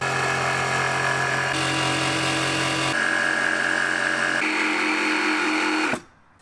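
Power saw cutting a board for a backyard miniramp, a loud continuous whining motor drone that shifts pitch in several steps as the cut proceeds, then stops abruptly near the end.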